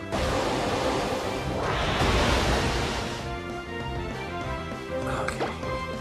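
Broad rushing water noise of a waterfall in Pokémon Alpha Sapphire, a steady loud wash that swells midway and carries on under layered game music.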